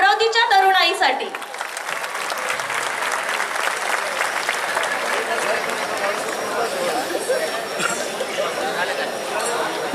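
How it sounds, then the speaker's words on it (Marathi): An audience at a public event in Amravati, with a dhol pathak troupe present, bursts into strong sustained applause that keeps going steadily under crowd chatter after a brief voice at the start. "एकदा जोरदार टाळ्या आमच्या अमरावतीच्या तरुणाईसाठी"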